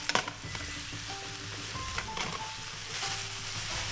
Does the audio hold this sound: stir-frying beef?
yes